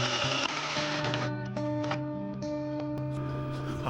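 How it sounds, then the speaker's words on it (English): Cordless drill with a weakening battery drilling holes in a Jeep TJ body, a steady close motor whine with sustained tones that shift slightly as the bit works through the metal. "we got both of those holes drilled"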